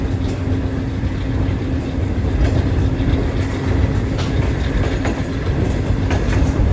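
Passenger train running on rails between Karachi and Nawab Shah, a steady loud rolling rumble with rhythmic clickety-clack of wheels over joints, continuous and close, heard from on board.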